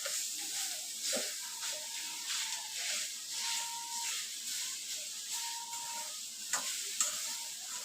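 Jaggery being stirred into modak filling in a pan over low heat gives a soft, steady sizzle and hiss with occasional scraping strokes of the spoon, faint and continuous.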